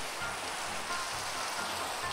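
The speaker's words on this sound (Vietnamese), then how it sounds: "Ui trời mưa luôn rồi kìa." Steady rain falls in a video game, a soft broadband hiss of drops without pauses across the whole short stretch.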